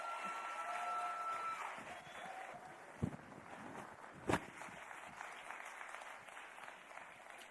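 Audience applause at an arts expo masterclass, a steady wash of clapping from a crowd that holds for several seconds, with a couple of sharper knocks partway through.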